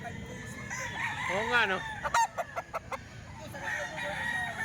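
Roosters crow at a chicken market selling cheap fowl, one long close crow followed by a rapid series of clucks, with market bustle and a brief spoken remark underneath.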